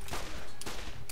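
A weapon fires in the looter-shooter Borderlands, with a few quick sharp shots over a busy game background, two distinct bright cracks standing out within about a second.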